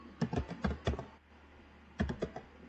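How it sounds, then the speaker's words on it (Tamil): Computer keyboard typing during an online German class, two close bursts of rapid keystrokes separated by a short pause, with no talking. "ஸோ ஃபார் எக்ஸாம்பிள் நான் ஒரு கொஸ்டின் மட்டும் டைப் பண்ணுறேன்."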